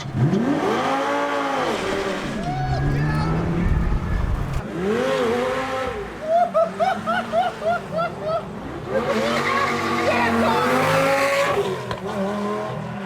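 A Lamborghini doing burnouts, its engine revving hard in rising and falling sweeps while the tires squeal and skid, loud and close, with a burst of choppy throttle pulses midway.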